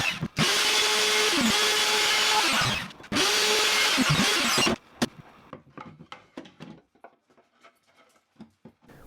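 A router cutting a groove in an oak board: two long, loud, steady whining passes broken by a short pause, then the motor spins down and leaves scattered light taps and handling knocks.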